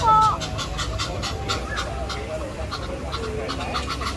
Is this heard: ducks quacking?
yes